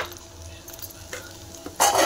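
Peanut powder being stirred into capsicum fried with cumin and onion in a pan, a soft steady scraping stir over low frying sizzle, ending in a louder burst of sizzle.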